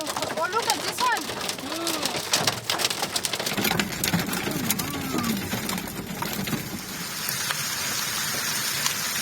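Steady rain patters on leaves and the ground under a tree outdoors, a dense, constant wash of drops. Birds call and people talk over the start before the rain continues alone.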